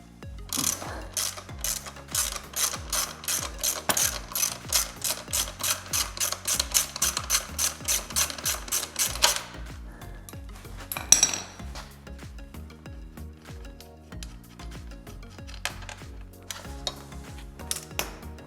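A ratchet wrench loosening a 13 mm bolt and 17 mm nut on a motorcycle swingarm linkage, a long rapid series of close, crisp metallic clicks that slows into scattered clanks and tool handling.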